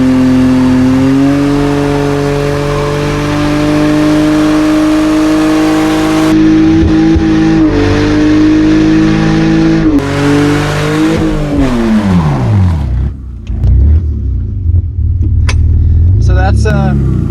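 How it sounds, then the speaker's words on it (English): A manual BMW E46 drift car with traction control off revs hard in first gear for a burnout, its engine wailing steadily and loudly up close, then rising and falling through several surging revs with tire roar underneath. "just rev it up."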